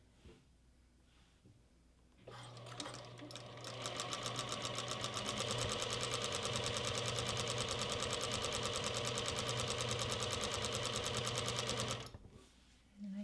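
A sewing machine runs at speed to wind a bobbin, starting up into a steady rapid mechanical whir with a fine rhythmic ticking that holds for about ten seconds, then stops abruptly.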